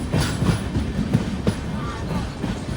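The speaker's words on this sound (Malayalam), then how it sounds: "ട്രെയിനിപ്പോൾ ഉച്ചി റെയിൽവേ സ്റ്റേഷന്റെ ഭാഗത്തേക്ക് എത്തുകയാണ്" Sindhudurg Express rolling along the Konkan Railway in monsoon season, heard from inside a general-class coach as a loud, steady rumble with rhythmic clickety-clack wheel beats.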